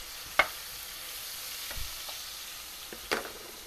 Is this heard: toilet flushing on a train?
no